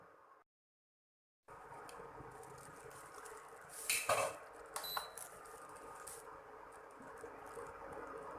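Chicken do pyaza is moved from a pan into a serving bowl, with faint clinks and scrapes of utensil on metal amid quiet kitchen hiss, and a few sharper knocks near the middle.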